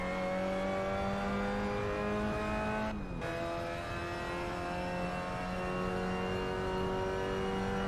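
A race car engine in the sim racing game Assetto Corsa, played on mobile, climbs steadily in pitch under throttle on a long straight. After a brief dip at a gear change, it keeps rising, loud and constant, with no talk.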